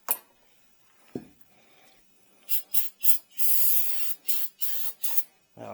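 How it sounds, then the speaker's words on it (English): Cleaner sprays onto a Toyota Tundra brake caliper and rotor in a series of sharp, close hissing bursts, short pumps followed by a longer sustained spray, after a faint click. "Spray both sides of this."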